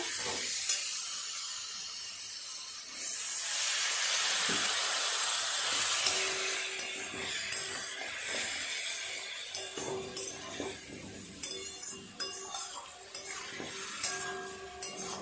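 Spices and vegetables sauté in a pan for a Bengali fish curry, with a soft continuous sizzle swelling midway, then scraping and stirring clatter with small knocks toward the end, all moderately quiet and close.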